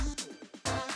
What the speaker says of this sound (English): let me just mute these last 2 kick drums in the bar, and let's see how it sounds